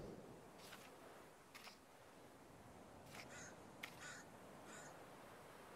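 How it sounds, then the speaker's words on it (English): Crow cawing in the VR survival game The Forest, several harsh separate caws spread over a few seconds against a faint, quiet background. "Stupid bird."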